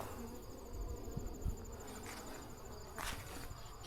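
Honey bees buzzing around a hive at feeding time, a faint steady whine in the background with occasional louder passes and small handling knocks nearby.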